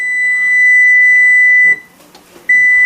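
Kitchen timer beeping loudly and steadily in a home kitchen while a cocktail syrup mix simmers on the stove, with one short gap before the tone starts again.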